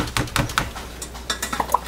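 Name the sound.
hand stirring soap mixture in a container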